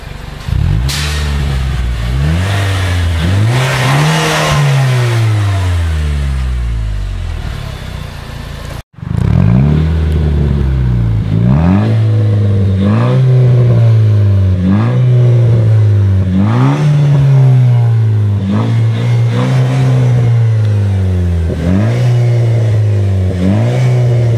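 Nissan Juke Nismo RS fitted with a custom exhaust, revved repeatedly in loud, rising and falling bursts, first in one take and then after a brief cut in a steady run of blips, close up with no talk.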